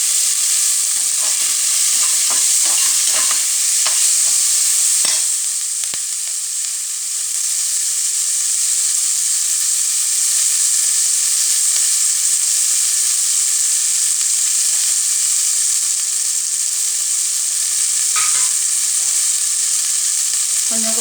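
Curry leaves fry and sizzle in hot oil in a pan for a Madurai-style mutton curry, giving a loud, steady hiss throughout with occasional stirring scrapes near the start.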